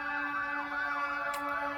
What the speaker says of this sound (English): I don't know if you can hear all the sirens out there.